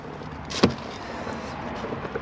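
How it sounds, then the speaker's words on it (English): The toilet cassette of a Bessacarr E460 motorhome slides free of the vehicle with one sharp scraping clunk, followed by faint low rustling. No one speaks. "slide the cassette free of the vehicle"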